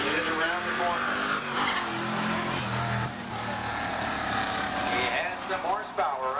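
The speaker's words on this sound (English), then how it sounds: "he's got some horsepower under the hood of this one, but whoa, backwards he goes" A race car at a speedway spins out backwards, its engine revving and tires squealing in sweeping pitch changes, heard at a distance with a crowd and a commentator talking over it.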